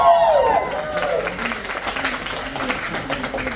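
Applause and crowd noise from a poetry slam audience in Gainesville, Florida, a steady clapping wash that starts loud and settles while a host's voice carries over it.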